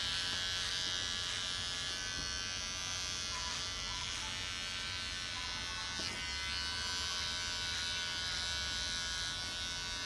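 Electric hair clippers set to 3 mm buzzing steadily while cutting a buzz cut at home, a close, continuous hum with faint changes as the blade moves through hair and no talking.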